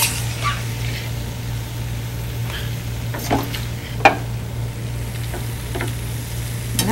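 Sweet Vidalia onions fry in a pan with a steady soft sizzle, occasional stirring scrapes and a sharp clink of utensil on the pan, with a constant low hum underneath.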